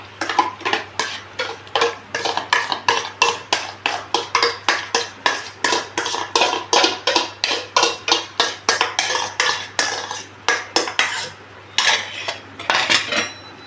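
A spoon scrapes and clanks rhythmically against a pan while stirring beetroot paste, roughly two strokes per second, loud and close with brief pauses and no talking.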